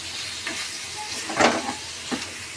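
Chicken frying in a pan at home, giving a soft steady sizzle with a few brief louder crackles and stirring scrapes.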